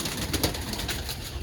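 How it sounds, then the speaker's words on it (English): Pigeons cooing in a loft, several birds making soft overlapping coos close by, steady and unbroken. "let's go look at some birds"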